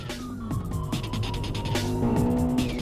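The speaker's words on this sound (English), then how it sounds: "the M5 is drifting back there" BMW M5 drifting on a track while being chased by an M3, with wavering tire squeal and engine whine rising and falling over about three seconds, moderately loud and slightly distant, amid surrounding car noise.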